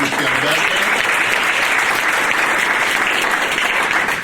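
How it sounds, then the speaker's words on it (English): An audience at an employer recognition event applauding the sponsors, dense, sustained clapping from a large crowd filling the room at a steady loud level throughout, with faint speech underneath at the start. "let's give a nice round of applause for all the sponsors"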